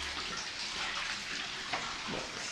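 Water from a tap pours into a jetted bathtub, a steady rushing splash that holds evenly throughout with slight gurgling variation, no voices over it.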